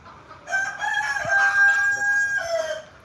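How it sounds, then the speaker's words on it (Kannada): A rooster crows loudly and close by on a dairy farm, one long drawn-out call with a rising, wavering pitch, against a faint outdoor background. "ನೋಡಿ ನಮ್ಮ ಕೋಳಿಗಳು ಇದ್ದಾವೆ ನಮ್ಮಲ್ಲಿ"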